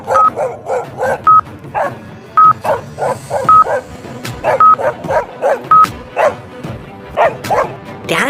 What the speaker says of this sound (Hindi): ब्रेवो के पीछे बहुत सारे जंगली कुत्ते लगे हुए थे।